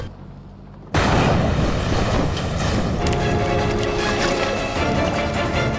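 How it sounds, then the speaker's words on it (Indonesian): A bomb explodes in a crime film scene: after a quiet moment, a sudden loud blast erupts and gives way to a sustained, roaring rumble that stays heavy and continuous for several seconds. "diam-diam Gonso sudah menekan detonator pada bomnya. Dan berdasarkan perhitungan, kurang dari 30 detik bomnya akan meledak"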